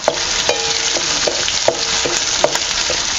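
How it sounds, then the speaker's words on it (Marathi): Garlic and green chilies fry in hot oil in a pan over a village wood-fired stove, giving a steady loud sizzle broken by sharp clicks of a spoon stirring every half second or so. "तेलात मिरच्या टाकते तर परतून घेऊया लसूण मिरच्या"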